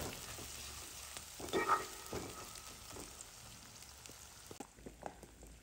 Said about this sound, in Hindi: प्याज इसमें हम शामिल कर देंगे। चम्मच को चलाएंगे। प्याज को हमने करना है ब्राउन।